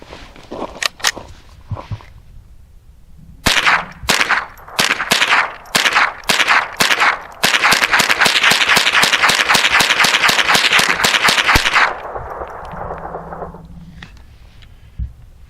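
Gunshots from a firearm loaded with Wildcat ammunition: a few loud, sharp cracks, then rapid strings of close, loud shots fired in quick rhythmic succession, followed by a quieter ringing tail.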